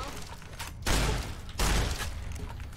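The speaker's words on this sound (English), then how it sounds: "Damn, this shotgun is too good." Two loud, close shotgun blasts from the video game Fallout: New Vegas, each a sharp broadband boom with a lingering tail, spaced under a second apart over low game background.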